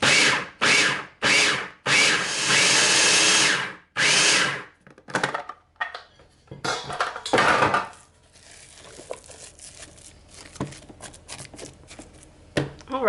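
Food processor blitzing a falafel mixture in several loud, rough pulses of a few seconds each, then stopping, followed by quieter scraping and handling sounds.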